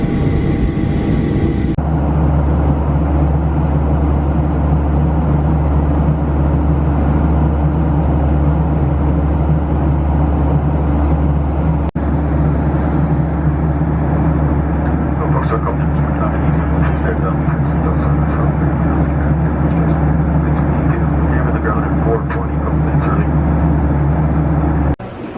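Airplane taking off from a runway in Barrow, Alaska, heard from inside the cabin as a loud, steady engine roar that holds throughout.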